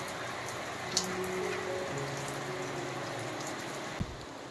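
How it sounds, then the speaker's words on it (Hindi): Rain falling steadily outdoors on an early morning in Arunachal Pradesh, a continuous soft hiss with a couple of sharper drip knocks, no voices. "बरसात चल रहा"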